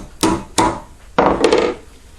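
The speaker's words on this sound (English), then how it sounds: "Take your hammer" A hammer strikes a screwdriver set sideways in the legs of an M17 helmet liner, spreading them: sharp metallic taps, two separate hits then a cluster, close and loud with no talking.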